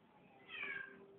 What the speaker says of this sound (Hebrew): הנה נכנס לנו פה איזה קוטר. חתול. כן, אבל הוא נכנס וצועק.